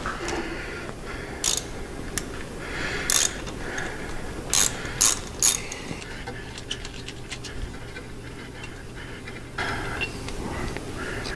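Ratchet fitted with a 5/8 deep well socket turning out a spark plug on a Milwaukee-Eight motorcycle engine, repeated close clicking pawl sounds in short bursts with pauses between strokes.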